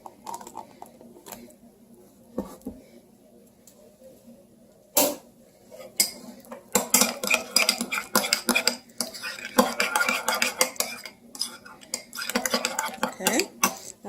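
A spoon clinks and scrapes against a bowl while Dijon mustard is mixed into a secret sauce for burgers, quiet at first and then a busy, irregular run of clatter.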